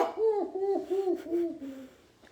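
A potoo calls at night, a series of mournful, wavering hoot-like notes that slide downward and fade, heard close and alone.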